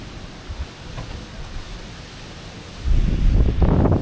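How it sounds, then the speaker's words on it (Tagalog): Strong typhoon wind buffets the open air in Tagaytay, a low, rough rumble that swells into a louder, harsher gust near the end. "Sobrang lakas ng hangin."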